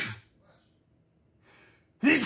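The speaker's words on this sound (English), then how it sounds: "I got to sneeze." A single sharp, forceful sneeze bursts out near the end, after a couple of seconds of faint breathing and near silence.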